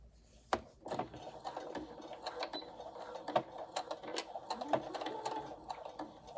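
A sewing machine stitches fabric for a colorblock two-piece set, a close, uneven mechanical chatter with sharp clicks and knocks scattered throughout, no voices present.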